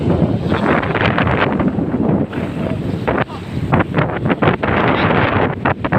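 Strong monsoon wind buffeting the microphone in heavy gusts, with rushing water and sea noise beneath, loud and continuous.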